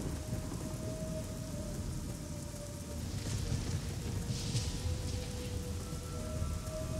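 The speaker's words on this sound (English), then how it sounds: "This weather mod that I'm using, one thing about it is that the rain sounds are horribly loud." Loud, steady rain from a weather mod in the PC game Fallout 3, a dense hiss that fills the whole stretch, with faint rumbling under it and no talk.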